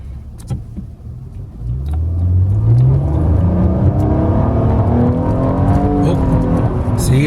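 A 2016 Nissan Maxima rental car in sport mode accelerates hard from inside the cabin, its engine note climbing steadily in pitch over a few seconds, loud and close.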